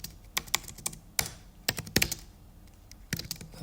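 Fingers tap out a note on a computer keyboard in quiet, close, irregular bursts of crisp key clicks, with short pauses between runs of typing.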